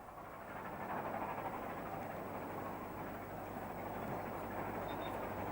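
LNER steam locomotive Mallard running on the Settle and Carlisle line past Mallerstang, a steady, distant rolling rumble with continuous broadband roar and no voices.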